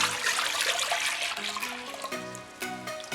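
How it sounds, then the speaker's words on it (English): Apple cider is poured into a crock pot, a continuous splashing, gurgling stream that thins into trickles and drips toward the end, close and fairly loud with no talk. "Let's start by pouring our apple cider into our crock pot."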